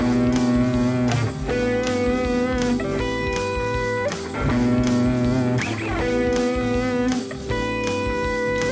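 A guitar plays sustained notes that step up in pitch, repeated in a few octaves, each note ringing clearly before the next one.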